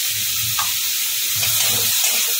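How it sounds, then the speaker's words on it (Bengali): Tomato masala cooking down in a pan for a Bengali masala begun dish gives off a steady close hiss and sizzle, with faint low stirring scrapes and no talk. "টমেটোটা যতক্ষণ না নরম হয়ে যায় ততক্ষণ আমি এটাকে কষাতে থাকি।"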